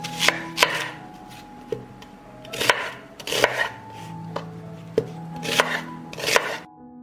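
A knife mincing onions on a cutting board, sharp close chops arriving in quick bursts of two or three with short pauses between them.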